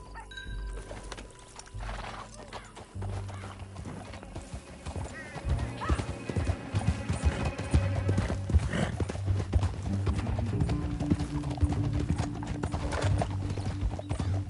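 Rhythmic clip-clop of horse hooves at a gallop, steady and building, with a whinny and busy sound effects and music around it, from the video game Red Dead Redemption 2.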